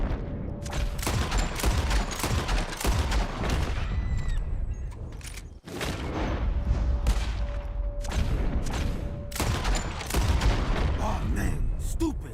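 Gunshots fired at birds in the video game Red Dead Redemption 2, with repeated loud reports and booming echoes going off at irregular intervals over a continuous outdoor background, with voices speaking at times.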